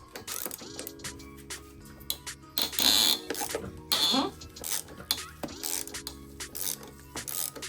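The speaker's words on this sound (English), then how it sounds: "with this flexible ratcheting wrench" A flexible ratcheting wrench working on fork clamp bolts of a crashed 2019 Suzuki GSX-R750, with several bursts of rapid ratchet clicking, close and fairly loud, interspersed with metallic handling sounds in a workshop.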